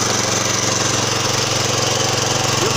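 A mobile welding machine's engine runs at a steady idle, its loud, even drone unbroken and close by, with no talk over it.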